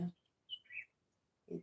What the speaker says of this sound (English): the sounds of nature around me, the birds, the chirping birds